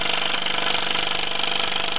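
A small 1948 Mamod SE1 steam engine runs two little cast iron workshop tools off a line shaft, its quick, regular chuffing beat steady and close.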